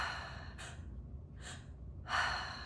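Breaths drawn and released during active breathwork, three separate airy gusts with pauses between them, the last one longest and loudest, close to the microphone and without speech.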